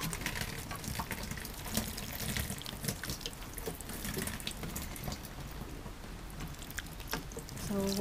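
Water pours steadily from a watering can onto freshly planted tea plant (Camellia sinensis) seeds under coconut fiber, a close, continuous splashing patter lasting several seconds.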